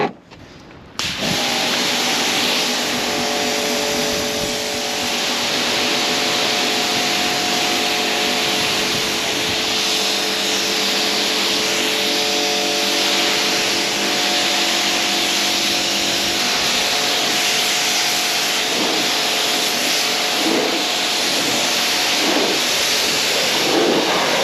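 Water spray rinsing car paint during a decontamination wash, a steady loud hiss with a constant tonal hum from the pressure washer, running continuously after a brief start.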